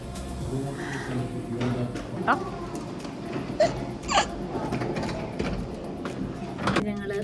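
An airport elevator hums along with a low mechanical rumble, with occasional clicks and clunks of machinery and faint voices in the background.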